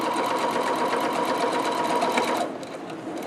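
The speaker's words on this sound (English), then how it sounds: "sew all the way to the edge of that pocket" A sewing machine stitching along the pocket edge of a fabric locker caddy, a steady fast whirring hum that runs evenly close up and then drops off to a quieter background near the end.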